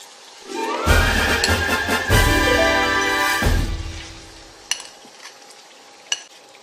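Pieces of chicken dropped into a hot pan of browned onions for a Bengali doi murgi curry, bursting into a loud sizzle in several surges, then settling to a quieter fry with two sharp utensil clinks.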